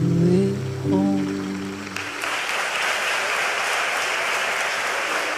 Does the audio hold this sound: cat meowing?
no